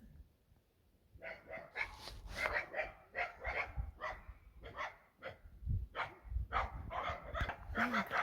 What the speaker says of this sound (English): Oh my gosh, and there's dogs.